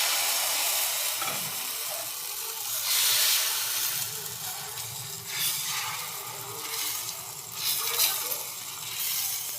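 Thin shukli batter poured onto a hot oiled griddle, a bright steady sizzle and hiss that swells in waves as the batter spreads, close and with no talking.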